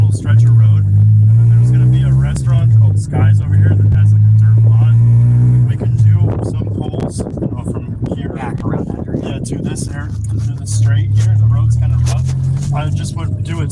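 Honda Civic with a swapped K24 engine driving on a road, a loud steady engine drone heard from inside the car with rising revs and road rumble throughout, while people talk over it.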